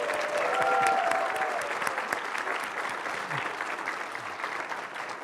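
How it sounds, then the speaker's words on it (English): An audience at a university thesis competition final claps for the contestants, a dense sustained wave of applause that starts strong and slowly eases, close and loud, with a brief faint voice near the start. "let's give a huge round of applause for all 11 of our amazing contestants"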